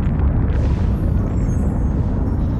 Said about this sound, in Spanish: La primera bomba atómica.